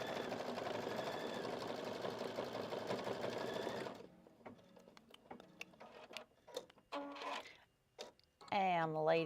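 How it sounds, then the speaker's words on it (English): Embroidery sewing machine stitching a design, a steady loud mechanical whir for about four seconds, then stopping, followed by scattered clicks and quiet handling sounds with voices talking near the end. "that completes the stitching"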